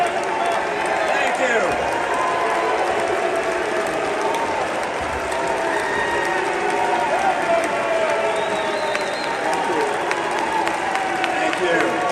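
A crowd in Utah applauds and cheers during a political event, sustained dense clapping with scattered voices and whoops throughout, heard as it plays back in a news clip.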